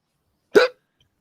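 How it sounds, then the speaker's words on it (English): A single sharp hiccup, loud and close, stands alone in otherwise near silence. "I got the hiccups."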